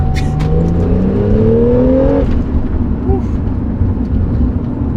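Ethanol-fuelled Porsche 911 pulling hard in second gear, a loud engine drone climbing steadily in pitch for about two seconds before easing off, over constant road and cabin roar.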